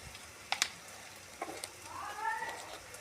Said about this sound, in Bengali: দেখো আদা রসুন পেস্ট ভাজা ভাজা হয়ে আসছে